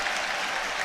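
Stadium crowd applauding at a Ligue 1 football match between Stade Rennais and OM, a steady dense wash of clapping heard alone for a brief moment.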